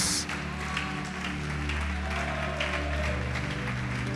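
Faint, steady congregation applause rises in a church service under a sustained organ or keyboard chord, with no speech over it.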